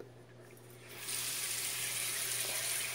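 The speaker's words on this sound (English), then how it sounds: "Let's put some water on the soap." Tap water starts running into a small seashell sink and onto a bar of soap, a steady close splashing stream that begins after a quiet second.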